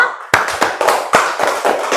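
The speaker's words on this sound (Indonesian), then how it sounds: "kasih tepuk tangan untuk kelompok 3" A classroom group giving applause for group 3, several sharp close claps in a quick uneven burst, loud and without talking.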